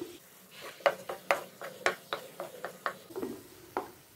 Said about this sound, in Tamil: சிம்மில் வச்சு நல்லா கிளறிட்டே இருக்கலாங்க.